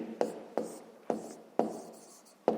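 Numbers being written by hand during a fifth-grade maths exercise: five crisp pen strokes, each a sharp tap that tails off into scratching, close and moderately quiet, with a faint voice behind.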